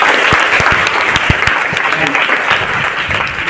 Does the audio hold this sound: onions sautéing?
no